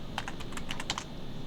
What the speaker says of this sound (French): Et là, je tape la commande